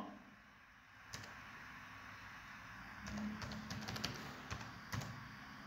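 Typing on a computer keyboard during office document editing, with irregular light key clicks clustered in short bursts, fairly faint against a steady background hiss.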